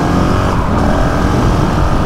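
A motorcycle engine runs steadily at close range, a loud continuous drone with no talk over it.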